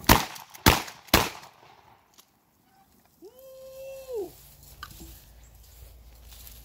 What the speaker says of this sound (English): I think I got 3 shots off.